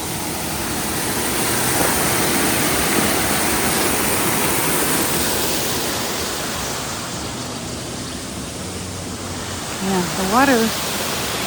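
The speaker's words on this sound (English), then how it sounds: "the water running right through their garden" Water runs through a garden along the Camino Francés between Viana and Logroño as a broad, steady rushing wash close by, with a brief voice-like sound near the end.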